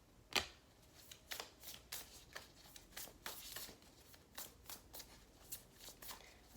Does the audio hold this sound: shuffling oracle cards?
yes